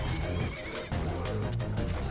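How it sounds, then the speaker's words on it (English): A horse in Skyrim neighs and whinnies over continuous game ambience, with a faint clop of hooves; the call is steady and fairly close across the short stretch. "That's my battle horse who does not get to battle."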